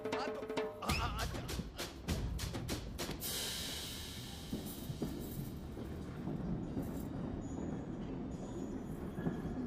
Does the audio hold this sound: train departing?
yes